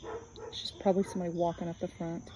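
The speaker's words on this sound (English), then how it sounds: "You can hear my dog" A dog in the background of a room gives a short run of soft, whiny barks and yips, several quick vocal bursts in a row, while someone talks over them.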